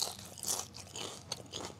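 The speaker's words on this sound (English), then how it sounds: "look how crunchy those fries look" Crispy, crunchy fries are bitten into close up, giving a series of sharp crunches followed by chewing and faint scraping.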